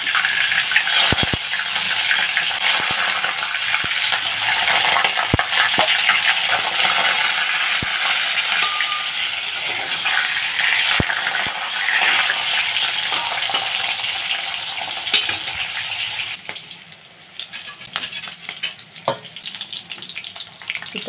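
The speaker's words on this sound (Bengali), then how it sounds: "চিতল মাছের মুইঠা আমি তেলে ভেজে নিলাম।" Chital fish dumplings (muitha) sputter and crackle loudly in hot mustard oil in a wok, with dense continuous sizzling and a few sharp spatter pops, easing slightly near the end, close and with no speech.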